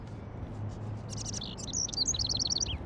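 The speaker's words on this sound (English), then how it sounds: "Can you help me get this bird out of here?" A bird trapped indoors in the video game Life is Strange chirps in quick, bright, repeated tweets, getting busier and louder toward the end over a low, quiet room tone.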